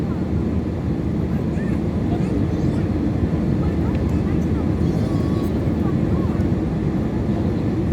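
Inside a full airliner cabin during the climb after takeoff from Kathmandu toward Bangalore, with wing elements still deployed, a loud steady engine and airflow roar fills the space while a person talks over it.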